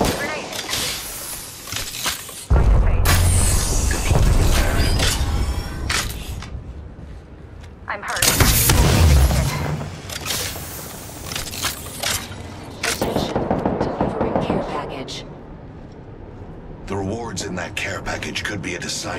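Gunfire in the shooter game Apex Legends, bursts of loud shots and impacts in several clusters, with a game character's voice lines talking over the action.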